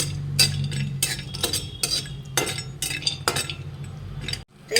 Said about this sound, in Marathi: हे पण आपल्याला कमी गॅसवर भाजून घ्यायचे आहे